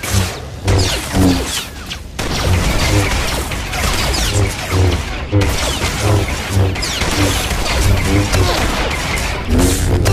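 Dense blaster gunfire in a Star Wars: The Old Republic battle at a Black Sun base: a sustained, loud barrage of rapid shots and impacts running throughout, mixed with game effects and occasional voices.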